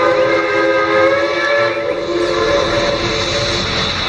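A toy train runs loud and close with a continuous mechanical drone, a sustained electronic horn-like whistle tone over it, and faint rhythmic clatter, steady for the whole stretch.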